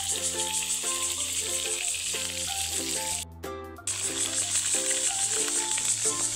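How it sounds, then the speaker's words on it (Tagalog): Tilapia frying in a pan gives a loud, continuous oily sizzle close up, broken by a brief clatter midway, with faint tonal background music running underneath. "At luto na po itong prito natin tilapia"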